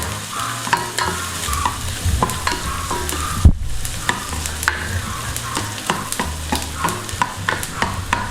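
Ginger toasting in a pan for a Filipino mung bean dish with bagnet, a loud continuous sizzle broken by regular scraping stirs and one sharp clatter, close up with no talk.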